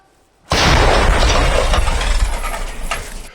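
A D-30 howitzer fires a single shot, a sudden loud close blast that drops into a long roaring rumble and echo lasting several seconds.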